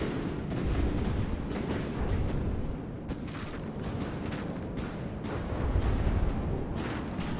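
Missiles striking and exploding in the naval combat game From the Depths, a dense, continuous barrage of booms and rumbling blasts with sharp cracks, loud and sustained throughout.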